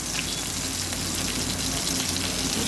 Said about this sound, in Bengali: দুটো টমেটো অ্যাড করলাম। ভালো করে ভেজে নিতে হবে এগুলো